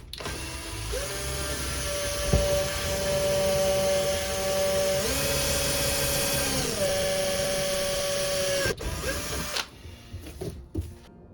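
A power drill bores a hole through a moped windscreen for a wiper motor, a steady high-pitched whine that holds for several seconds and shifts pitch under load, then cuts off near the end, close and alone.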